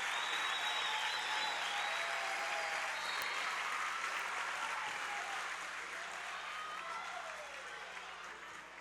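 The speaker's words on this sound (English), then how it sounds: "that will bring the crowd to their feet as it's match point New Bremen" A high school volleyball tournament crowd, New Bremen against Minster, roars and applauds at match point: loud, sustained cheering and clapping filling the gym, slowly easing off toward the end.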